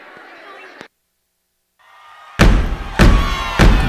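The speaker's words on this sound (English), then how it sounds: "You guys stomp your feet like that?" Children at a church day-program gathering stomp their feet in a few loud, heavy thuds, three strong bursts following a brief hush, with faint voices and crowd noise before.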